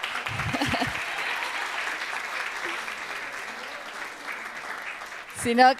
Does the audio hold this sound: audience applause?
yes